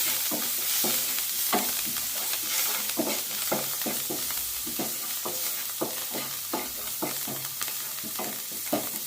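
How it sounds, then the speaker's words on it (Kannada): Chopped coriander is stirred into a sizzling vada pav filling in a pan, a spoon scraping in quick, irregular strokes over a constant close frying hiss. "ಸಣ್ಣಗೆ ಕಟ್ ಮಾಡಿರೋ ಕೊತ್ತಂಬರಿ ಹಾಕ್ತೀನಿ ರೀ ಸ್ವಲ್ಪ ಚೆನ್ನಾಗಿ ಮಿಕ್ಸ್ ಮಾಡ್ಕೊರಿ"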